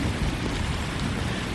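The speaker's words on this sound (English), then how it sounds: "Oh, and the rain's starting to come down." Steady rain pours down during a storm over a seaside artist's studio, a dense, even hiss of drops close by with no voices.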